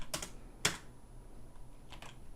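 A computer mouse and keyboard during 3D modeling work give a few faint, crisp clicks spaced apart in an otherwise quiet room.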